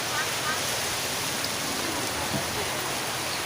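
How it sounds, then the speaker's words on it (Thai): Steady rain falls at Khua Din market in Vientiane, Laos, a constant, close hiss of drops on surfaces with faint voices mixed in underneath. "ฝนตกมาเลย"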